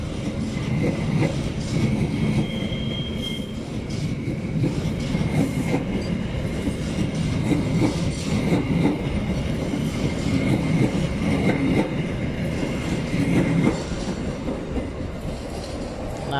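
A CC206 shunting locomotive pulling wagons accelerates along a railway track, a steady loud rumble with rhythmic wheel clatter and a faint high squeal that continues unbroken throughout, no voices.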